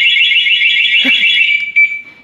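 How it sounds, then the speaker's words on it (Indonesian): Suzuki Satria FU fuel-injected motorcycle's anti-theft alarm, a loud warbling siren that holds steady, is briefly broken by a thud, then settles into a single tone and fades out. "Itu dia fitur anti atau fitur alarmnya."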